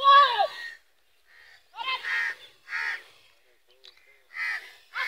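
Several crows caw in loud, harsh bursts, a close, strong call at the start followed by repeated caws spaced across the stretch, with quiet gaps between.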